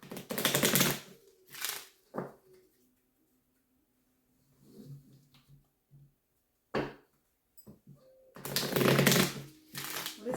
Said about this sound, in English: These cards are so stiff. I have to break them into two different piles to shuffle them.